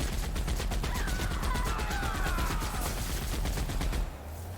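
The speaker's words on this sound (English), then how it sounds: "Maybe shooting a swarm of flies" Sustained automatic gunfire in the video game The Outer Worlds, aimed at a swarm of flies, loud and steady for about four seconds before cutting off abruptly into a low hum.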